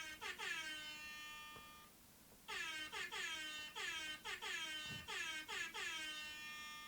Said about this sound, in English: Or a sad air horn?